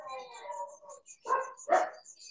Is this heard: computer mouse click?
no